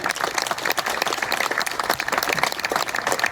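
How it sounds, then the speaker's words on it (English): Steady crowd applause at the Benson Polytechnic High School groundbreaking ceremony: many hands clapping together, dense and continuous for several seconds, fairly close, with no break. "So can we give them a round of applause?"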